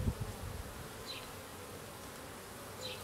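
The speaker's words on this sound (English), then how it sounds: "You also see there's lots of bees in this hive." Honey bees buzz around an opened hive during spring inspection, a dense, continuous drone close by at low level, with a few individual bees passing nearer and louder.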